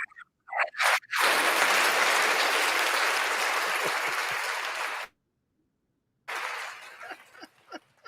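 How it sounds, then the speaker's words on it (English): A canned applause sound effect triggered from a button on a basketball recap show: a loud, dense burst of crowd clapping that swells for about four seconds, then cuts off abruptly into silence before quieter sounds return. "we got to work on our applause button"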